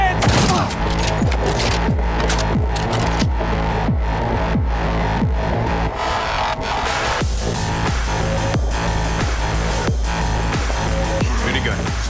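Minigun fire in the video game Cyberpunk 2077 on PS5: a sustained, loud, rapid stream of gunfire with repeated heavy thumps and booms layered over a dense game soundtrack, continuing throughout.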